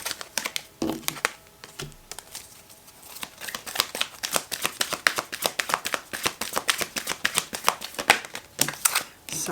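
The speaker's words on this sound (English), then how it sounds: "too many cards fell then" Tarot cards riffle and slap down in a quick, irregular patter during a shuffle, the crisp flicks growing denser and louder toward the end, close up with no talk.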